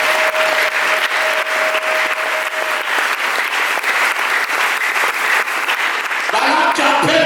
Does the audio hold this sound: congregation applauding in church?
yes